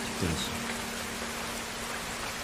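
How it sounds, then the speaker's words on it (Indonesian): Rain begins falling in an anime scene, a soft steady hiss of drops spread evenly through the short stretch, with a brief faint tonal blip near the start and a low steady hum underneath. "bergegas pergi saat hujan mulai turun"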